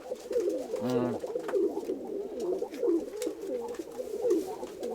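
Mykolaiv pigeons coo repeatedly nearby, soft throaty calls rolling on and off, with one brief higher squeak standing out.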